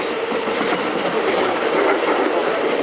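Steady rumble and clatter of a JR West electric train on the Kansai Airport Line rolling along the rails into a station, heard from inside the car, continuous and moderately loud with no voices.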